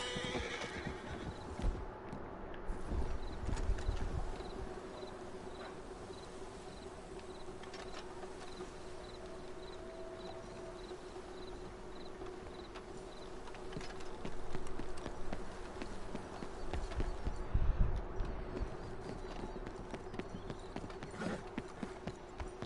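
A horse's hooves clip-clop steadily on the ground beneath a whinny, with insects buzzing around and a few soft thumps of movement nearby.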